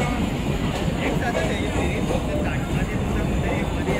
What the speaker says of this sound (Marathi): चला, फायनली आपली ट्रेन आलेली आहे।